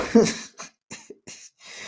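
Several short, dry coughs in a row with brief pauses between them, close to the listener, the first one strongest.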